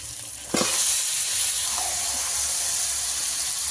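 Marinated desi chicken drops into a pan of cooked spice paste with softened tomatoes, setting off a sudden loud sizzle that settles into a steady hiss of frying, with no one talking.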